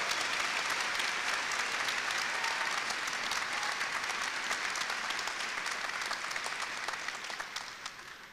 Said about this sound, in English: So why don't we give those folks a quick round of applause and appreciation.